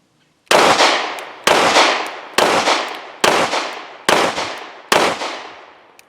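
Six sharp pistol shots from a Springfield Armory Hellcat Pro FDE ring out at a slow, even pace, each loud crack followed by a decaying echo, with no voices.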